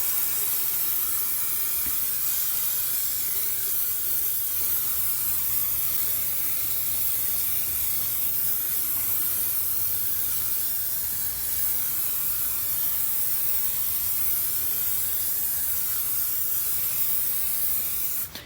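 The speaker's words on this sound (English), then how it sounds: "you want to spray this side with spray adhesive." Steady, continuous hiss of an aerosol spray adhesive can held close, spraying plastic and cloth without pause for the whole stretch with no talking.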